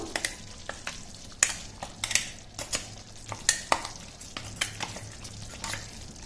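Ground sesame and coconut powder is tipped into a pan and stirred for a temple-style pulihora paste: a close run of irregular scraping, tapping spoon strokes over a faint frying sizzle, with no voices.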